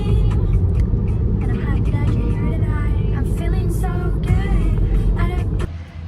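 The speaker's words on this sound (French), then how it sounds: "Ça fait trop bizarre de retrouver le bus que je prends tous les jours." Steady low rumble of a city bus on a daily commuter route, close and continuous throughout, with a voice talking over the engine drone.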